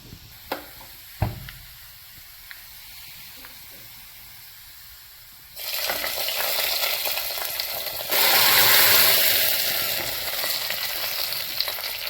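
Garlic fries in oil, with a few light clicks in a quiet stretch before a loud, dense sizzle bursts in and grows stronger for several seconds, close and continuous, with no talking.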